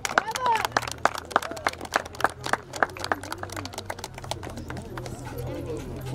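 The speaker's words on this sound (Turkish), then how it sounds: "Kendisine de büyük bir alkış rica ediyorum" Rhythmic, evenly spaced clapping from a crowd at an award ceremony for future search-and-rescue dogs in Kuşadası, loud and close, with people talking over it and the clapping loosening toward the end.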